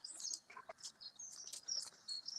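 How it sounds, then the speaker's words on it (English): Two robins singing outdoors, a run of bright high warbles and chirps coming and going one after another, fairly close and clear, with no voices. "we've got the robins. We've got 2 robins there."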